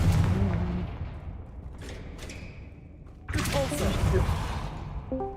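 Confringo explosive spell cast in Hogwarts Legacy, heard as loud booming blasts and thuds at the start and again in a later burst, with a voice speaking over the game sounds.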